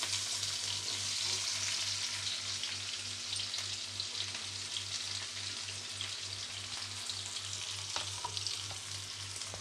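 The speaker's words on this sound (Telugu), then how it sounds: "ఎర్రగడ్డలు బాగా ఫ్రై చేసుకోవాలి ఫ్రెండ్స్" Onions fry in hot oil with mustard and cumin seeds, giving a steady close sizzle and crackle with a faint rhythmic hum underneath and no talking.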